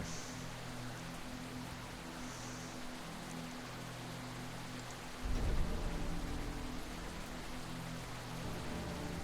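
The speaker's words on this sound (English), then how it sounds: "So we know it's raining and the wind's heading that way." Steady video game rain hisses throughout, with a deep rumble of thunder rolling in partway through over a faint low drone.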